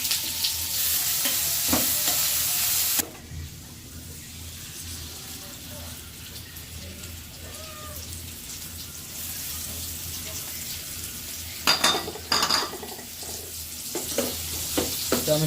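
Chopped raw tomatoes go into khichuri cooking in a pan: a loud sizzle for the first three seconds drops to a quiet simmer, then clattering, scraping stirring bursts in near the end.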